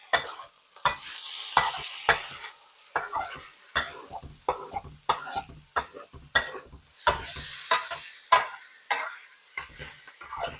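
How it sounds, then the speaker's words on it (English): Stir fry sizzles softly in a wok while a utensil scrapes and clatters in repeated sharp strokes, a steady stirring rhythm close up. "Get it sizzling again."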